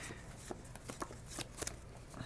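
A deck of playing cards is shuffled during a KeyForge card game, a few quiet, brisk riffles and taps spread irregularly over a low background hum.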